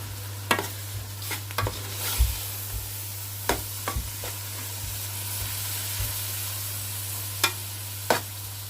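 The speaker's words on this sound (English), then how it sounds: "So now I'm going to add 2 tablespoons of plain yogurt. I'm just going to mix that in." Plain yogurt stirred into saag cooking in a pan, with a soft sizzle underneath and repeated scraping clicks of the spoon against the pan, steady and close, with a constant low hum behind.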